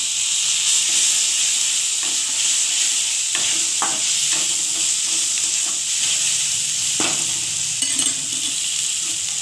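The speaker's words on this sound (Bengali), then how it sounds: "তো পেঁয়াজটা ভাজা হবে" Onion frying in a pan makes a steady bright hiss and sizzle throughout, close up, with occasional scraping taps of a spatula stirring.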